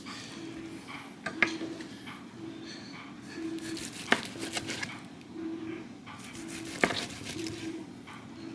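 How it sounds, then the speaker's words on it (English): Knife slicing through butter-soaked turkey, with soft wet cuts and a few sharp taps against a board at regular intervals, close and fairly quiet, under a low steady background hum. "I'm gonna cut a few more slices."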